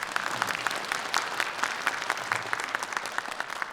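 An audience applauds after Pohang Elementary School students perform Bach with a chamber orchestra at a classical concert; brisk, crisp clapping from a moderate crowd, with individual claps standing out over a steady bed.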